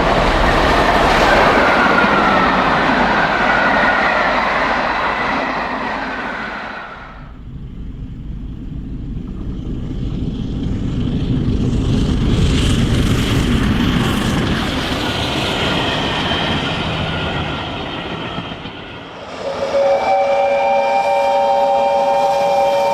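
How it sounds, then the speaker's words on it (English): Tornado, a steam locomotive hauling a mail train on a snowy railway, roars loudly and continuously with rumbling chuffs and rolling wagons, and a whistle sounds briefly near the end. "Tornado hauls a mail train transporting Christmas presents and cards for everyone."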